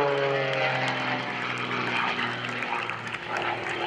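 An aerobatic propeller airplane flown by a Red Bull pilot at a military open house air show roars loudly and continuously overhead, its engine drone steady with slight shifts in pitch and no talk.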